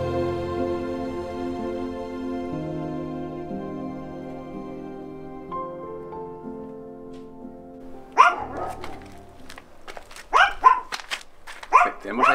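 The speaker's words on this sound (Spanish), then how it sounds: "Un perrito que siempre que pasamos nos echa la bronca." A small dog near houses beside a forest in Galicia barks at passers-by in a few sharp, close bursts after a stretch of steady tonal background sound.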